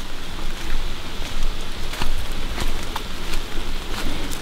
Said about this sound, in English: Starting to rain on us.